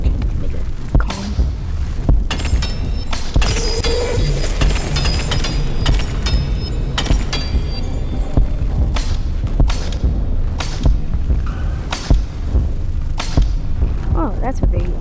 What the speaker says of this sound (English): it's gonna be an amazing fireworks show